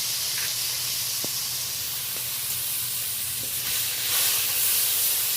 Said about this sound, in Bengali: এই পর্যায়ে আমি গ্রেট করা পেঁয়াজটা দিয়ে দিলাম